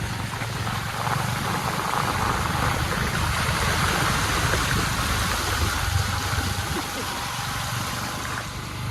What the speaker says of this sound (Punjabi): ਰਾਵੀ ਦਰਿਆ ਦੇ ਅੱਜ ਤੱਕ ਕਿੰਨਾ ਕੁ ਪਾਣੀ ਚੱਲ ਰਿਹਾ ਉਹਦੇ ਵਿੱਚ